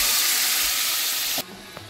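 Tomato puree hits hot tempering oil for a tomato pachadi with a loud, steady sizzling hiss that drops abruptly to a softer simmering crackle, followed by a small clink.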